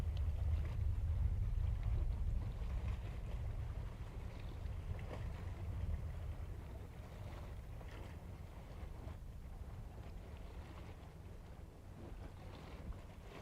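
A SpaceX Falcon 9 rocket launch for the CRS-32 mission on Florida's Space Coast produces a steady, distant low rumble that holds for the whole stretch, slowly easing in loudness with wind-like noise over it.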